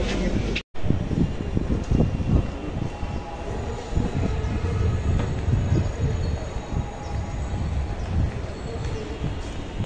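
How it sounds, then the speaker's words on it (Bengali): A metro train rolls along with a steady, loud rumble and rattle of the carriage, continuous from start to finish after a brief cut near the beginning. "এই যে মেট্রোতে উঠছি"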